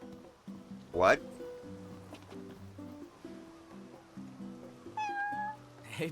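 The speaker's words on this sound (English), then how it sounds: "Kitty! What's up? Taking a little stroll?" A cat meows in the video game Final Fantasy XV, one sharp rising meow early and a second softer, wavering meow near the end, set against sustained ambient game music.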